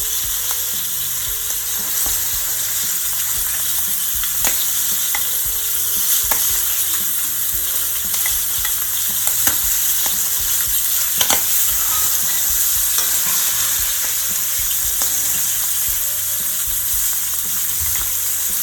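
Steady, loud sizzling of chicken frying skin side down in hot oil in a pan, with occasional pops and crackles throughout and no voices.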